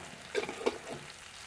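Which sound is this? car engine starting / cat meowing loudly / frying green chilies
frying green chilies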